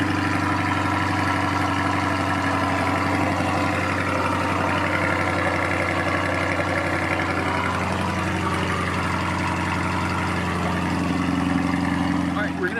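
A 2020 C8 Corvette idles in track mode, its exhaust giving a steady low rumble throughout, close and alone.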